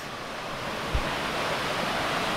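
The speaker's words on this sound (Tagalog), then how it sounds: "Ito na po yung waterfalls." Broadband steady rush of a nameless waterfall in the Philippines, a continuous wash of falling water near and fairly loud with a brief low thump partway through, no voices.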